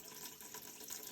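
Drinking water running steadily from a tap in Canada, a continuous close hiss of flowing water without talk.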